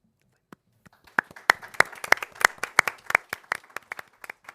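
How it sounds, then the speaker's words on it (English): A small roomful of people at a policy discussion claps, starting with a few sparse hits, then building into a quick, crisp run of close, distinct handclaps before thinning out. "Hopefully you can hear our applause, Jagdeep, from everyone in the room."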